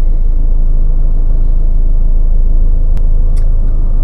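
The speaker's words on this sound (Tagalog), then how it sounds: "So medyo traffic lang." Heavy low road rumble from inside a moving car in traffic, loud and steady, with a brief sharp click and a faint high squeal near the end.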